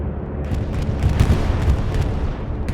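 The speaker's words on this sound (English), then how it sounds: "Bombing run coming in." Bombing run in Hell Let Loose: a dense, sustained wall of rumbling explosions and booming impacts, loud and continuous for the whole stretch with repeated bursts layered over a heavy low roar.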